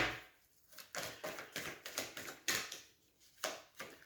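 Tarot cards are shuffled in a quiet room, a steady run of soft, crisp riffling flutters repeating in quick bursts, close and fairly faint with no voices.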